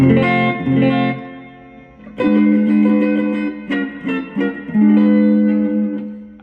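An electric guitar, a copy of a Gibson ES-125T, plays through a small amplifier with distortion set low, giving sustained ringing chords and notes in a few phrases with short gaps between.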